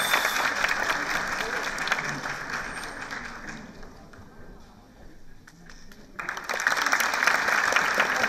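An audience at a teachers' singing contest final in Van applauds singer Mustafa Buran, dense clapping that fades slightly midway, then swells back loud and sustained.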